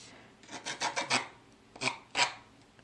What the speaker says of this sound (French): Je sais pas si elle lime. Attends, on va essayer.